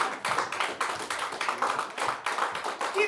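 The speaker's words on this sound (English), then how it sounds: "Give a big round of applause for the one," At a stand-up comedy show during a festival, the audience applauds a comedian taking the stage. Steady, moderately loud clapping with rhythmic bursts carries on throughout, with no voices over it.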